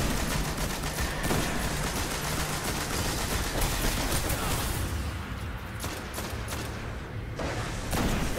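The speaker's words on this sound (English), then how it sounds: "Yeah, heavy machine gun." Heavy machine gun fire in the Destiny video game, a dense continuous clatter of shots with dull thuds, steady and fairly loud throughout with faint voices underneath.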